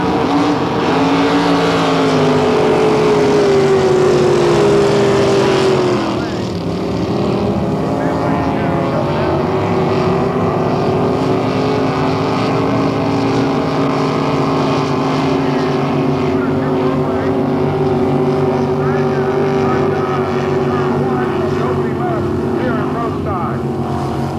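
Loud, continuous roar of racing boat engines, with whining pitches that rise and fall as the boats pass, sustained for the whole stretch.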